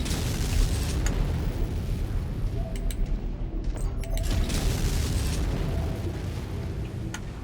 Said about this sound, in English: There we go, some exploding stuff.